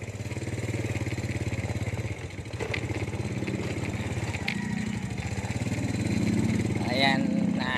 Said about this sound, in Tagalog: Buti na lang motor ang dala natin.